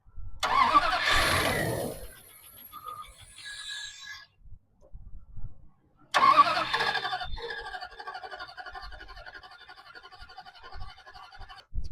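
A car engine cranks in a loud burst, falls quiet, then cranks again and catches into a rough, rattling idle close by, with no talking.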